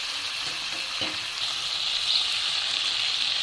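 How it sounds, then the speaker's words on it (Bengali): Mutton sears with fried onions in a pan, a dense continuous sizzle that holds steady and grows slightly louder, with a faint stir partway through and no talking. "দেখো আমি এটা এখানটায় ভালো করে কষিয়ে নিচ্ছি মাটনটা"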